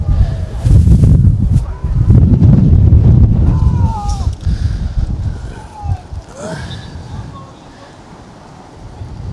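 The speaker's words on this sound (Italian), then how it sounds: "mentre si alza il vento" Cold wind gusts buffet the microphone at an outdoor football match, a heavy low rumble dominating the first half and fading later, with a commentator talking over it and faint whistles in the background.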